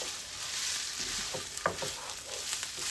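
Sliced onions sizzle and fry in a hot pan, a steady close hiss with a few brief stirring clatters near the middle.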